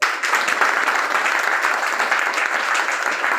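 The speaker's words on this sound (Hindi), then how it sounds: "अपने कंपनी के लिए जोरदार ताली।" People applaud at an office meeting, a steady, fairly close patter of clapping that fills the whole moment without talk over it.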